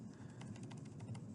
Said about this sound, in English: start typing torus volume